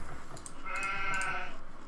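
Sheep bleating in the video game Age of Empires II, a wavering, nasal bleat rising over a steady rhythmic game background, moderately loud and brief, with no talk over it.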